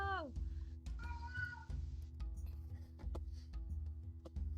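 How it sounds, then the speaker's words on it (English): Several meows from a house cat, with harmonic cries rising and falling in the first second or so, loud and close over a steady low hum and a faint background voice. "You can hear my cat."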